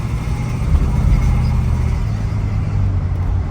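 Smooth, quiet engine of a 1964 Ford Galaxie 500XL running while the car drives, a steady low hum with road noise and no voices.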